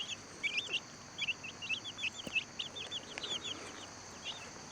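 Young chicks cheep in quick, high bursts as they hurry toward fresh piles of feed, many small peeps overlapping close by without a break.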